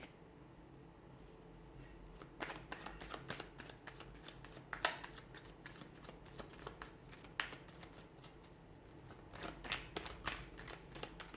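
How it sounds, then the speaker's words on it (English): Tarot cards are shuffled by hand in a quiet room, a steady papery riffle and slide with repeated sharper flicks and snaps as cards spill out, fairly close and alone with no talk. "Cards are just flying out."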